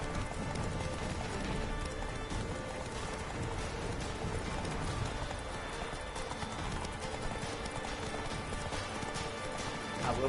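A horse gallops in The Witcher 3: Wild Hunt, with continuous rhythmic hoofbeats under a dense, steady game soundscape that carries on throughout.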